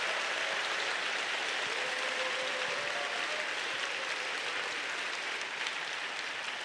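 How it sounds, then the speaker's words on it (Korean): Big, steady applause from a church congregation at a young adults' worship service welcomes a professor to speak, a thick even roar of many hands clapping that holds throughout, with a faint tone briefly audible beneath. "우리 마음을 담아 큰 박수로 우리 교수님을 맞이하겠습니다"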